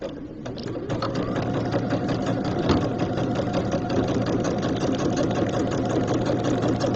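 A sewing machine stitches vinyl binding onto a project bag using a Teflon foot, a steady close mechanical whirring with a low motor hum that runs unbroken throughout.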